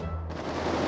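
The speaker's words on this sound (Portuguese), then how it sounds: "Mas começaram a dar tiro." Burst of gunfire in GTA 5 roleplay gameplay, a short dense crackle of shots that fills the brief moment loudly.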